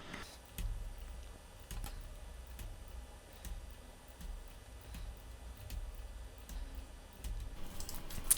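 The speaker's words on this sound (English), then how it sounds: "So I'm left clicking on a layer, hitting F8 and hitting OK." Computer keyboard keys and mouse clicks at a desk while working in animation software, scattered sharp taps and clicks in an irregular rhythm, close and fairly quiet with no speech.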